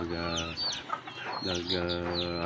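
Native chickens cluck and call at feeding time, near and fairly loud, in short overlapping bursts.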